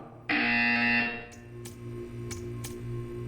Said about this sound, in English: When you hear the buzzer, stare at the art.